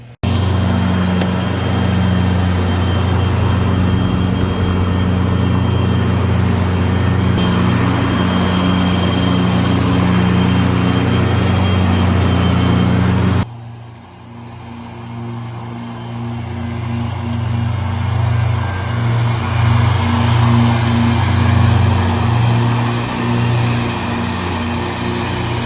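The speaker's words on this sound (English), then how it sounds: "So let's get back to mowing." A Ryobi electric riding lawn mower runs steadily and loudly through the first half, with a sudden drop to a quieter, fluctuating mechanical hum as mowing continues with the family outdoors.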